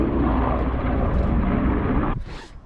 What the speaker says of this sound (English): Army helicopter.